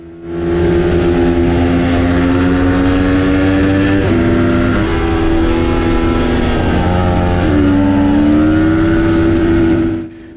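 Race car engines in a road racing video game, a loud sustained roar with rising and falling pitch as the cars shift and accelerate together, running steadily with no talking.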